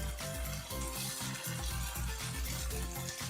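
Soya chunks stir-fry in a pan with soy, tomato and chili sauces, giving a steady close sizzle with rhythmic scraping stirs repeating about twice a second and no talking.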